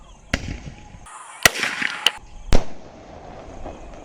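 A few sharp sky shot firework bangs with crackling bursts in between, loud and close, separated by short pauses.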